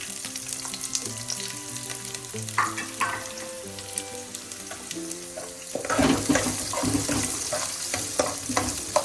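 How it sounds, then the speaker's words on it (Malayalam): Chopped onion is stirred into violet cabbage frying in a pan for cabbage thoran. Steady tonal music plays at first, then a loud, close sizzle with clattering spatula strokes takes over. "അതിലേക്ക് ചെറുതായി അരിഞ്ഞ സവാള ചേർക്കാം"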